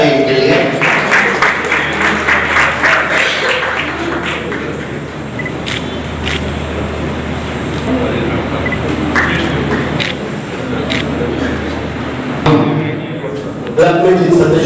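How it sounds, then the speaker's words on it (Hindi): An audience claps at a Rotary Club installation ceremony in Udaipur, producing sustained applause with scattered louder claps and a thud near the end, while speech carries on over it. "एक बार जोरदार ताली इनके लिए।"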